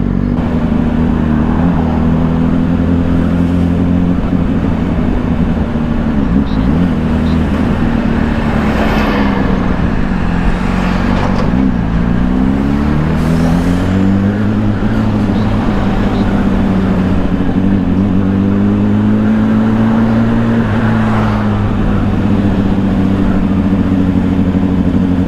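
A 2025 Honda CBR600RR ridden through traffic, its engine droning loud and steady with shifting revs under heavy wind rush, while a rider talks over it at times.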